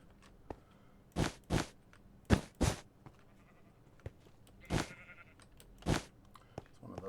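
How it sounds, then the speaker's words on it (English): Sheep in Minecraft bleat in several short separate calls, close and clear over a quiet background with small clicks between. "I hear you over there, sheep."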